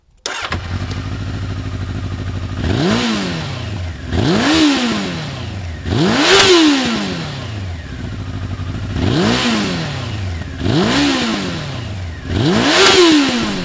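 Honda CBR900RR Fireblade, the original first-generation sport bike, its engine revved repeatedly from idle: six loud, rising and falling throttle blips in a regular rhythm, close to the microphone, with no voices.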